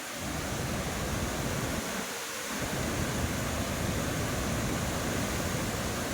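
Floodwater from Typhoon Enteng pours over Wawa Dam in a loud, steady roar of rushing water that barely changes throughout, with no voices heard.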